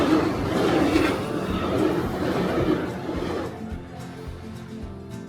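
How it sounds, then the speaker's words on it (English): A train in Kyoto, Japan rumbles in steadily, a broad low roar that fades toward the end, leaving quieter rail clatter. "Train's about to come."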